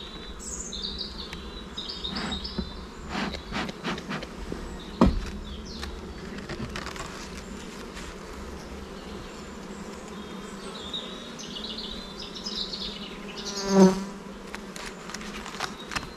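Honeybees hum softly and steadily around open beehives outdoors, with a few faint chirps and one brief louder buzz passing close near the end.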